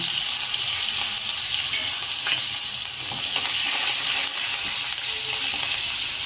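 Curry leaves and green chillies hit hot oil for farali khichdi, producing a loud, unbroken hissing sizzle heard close and alone, with only slight swells in intensity.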